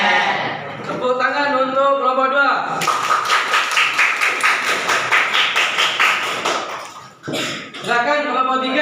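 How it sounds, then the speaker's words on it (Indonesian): A class applauds a group's presentation during an Islamic creed lesson, a dense run of claps lasting several seconds, with a teacher speaking before and after. "Tepuk tangan untuk kelompok 2"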